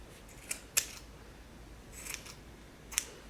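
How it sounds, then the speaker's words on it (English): Scissors snip through yarn just below a slip knot, giving a few sharp, crisp close-up clicks spread over a few seconds with quiet pauses between and no speech. "then I'm gonna snip it right below the slip knot"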